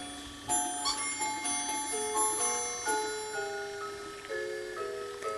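Christmas ornament bells ring in a decorated home, several bright, close chimes struck one after another with long shimmering tones that overlap and slowly fade.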